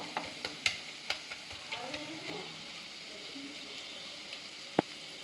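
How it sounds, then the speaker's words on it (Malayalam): Onion, ginger and green chili stirred in a frying pan give a soft continuous sizzle, broken by several light clicks and scrapes of a spoon against the pan and one sharper knock near the end. "ഇളക്കി ഉള്ളി ഇഞ്ചി പച്ചമുളക് എല്ലാം കൂടി ഇട്ടിട്ടുണ്ട് കേട്ടോ"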